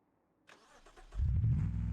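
A car engine in the BeamNG.Drive video game, a repo truck, cranking with a starter whir and then catching into a loud, deep, rumbling idle that holds steady, with no talking.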